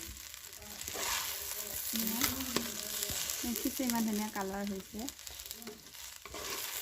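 Rice frying in mustard oil with onion, bay leaf and cardamom gives a steady sizzle with stirring scrapes, heard close while a voice talks over it.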